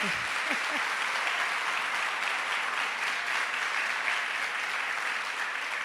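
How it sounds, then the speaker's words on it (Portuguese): Sustained applause from a church congregation during a worship service, a steady dense wash of clapping filling the room at moderate volume with no talk over it. "Pode aplaudir."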